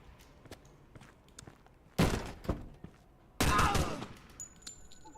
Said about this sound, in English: we're gonna go ahead and kick in this door here for this guy